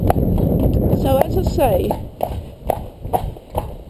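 Horse hooves clip-clopping during a groundwork training session, a steady run of hoof strikes heard under someone speaking close by.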